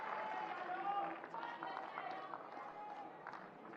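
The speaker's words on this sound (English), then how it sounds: "You hear the crowd applauding." Tennis crowd on a packed outdoor court applauding after a rally, a soft distant patter of clapping under a commentator's voice that carries throughout.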